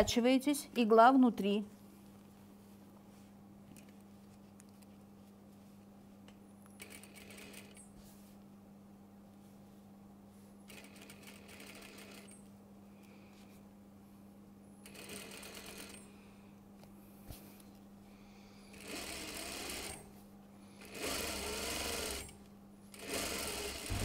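A sewing machine runs in several short bursts while stitching a one-centimetre seam on a cashmere jacket, with a steady low hum between runs and a louder burst of handling noise at the start.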